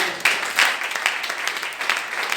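Church congregation clapping and cheering in praise of Jesus, a lively crowd applause with scattered louder claps and voices, sustained throughout.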